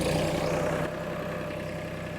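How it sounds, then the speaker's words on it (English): A Mahindra 2100 series compact tractor engine runs steadily, starting loud and settling into a lower, even idle with a deep continuous rumble, no voices present. "First, we're going to start the tractor."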